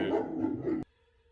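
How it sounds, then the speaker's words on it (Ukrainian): A young dog barks in a workshop where quad bike suspension is being repaired, giving a close, loud burst of rough barks that stops abruptly into near silence. "ти на кого там гавкаєш? Собацюга молодий."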